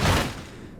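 A car body slams hard onto the ground in BeamNG.drive, a single loud, close thud that dies away quickly within a second.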